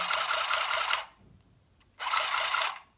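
A Singer hand sewing machine runs in two short whirring, clattering bursts of about a second each, separated by a brief quiet pause, close and fairly loud.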